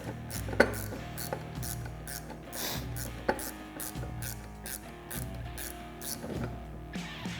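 A ratchet wrench tightens the clutch bolts on a Polaris RZR XP 1000 during a Rev1 clutch kit install, giving a steady run of quiet, close clicking strokes with a few sharper metallic ticks and a low hum underneath.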